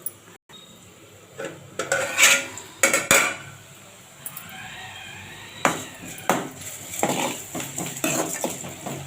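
A spoon stirs boiled-egg curry in a cooking pan, making a scatter of sharp metallic clinks and scrapes in uneven bursts, close and fairly clear, with no talking.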